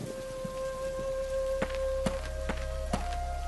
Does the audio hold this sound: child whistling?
no